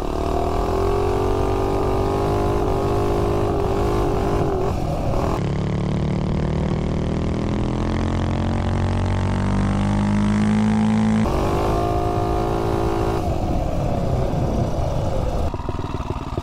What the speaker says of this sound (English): Engine cutting out a little bit.